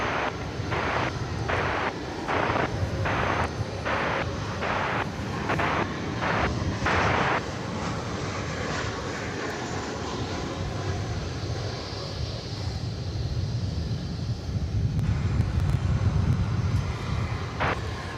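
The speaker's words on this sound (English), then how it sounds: "We should be close to the takeoff of the MD-11" A jet airliner takes off at DFW Airport, heard as a loud, sustained, distant engine roar with a broad rumble that rises and holds. A regular ticking pulse sounds during the first few seconds.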